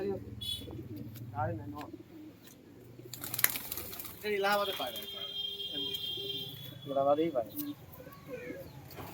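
Local domestic pigeons coo in soft, low murmurs at close range, mixed with intermittent human voices and a few sharp noises.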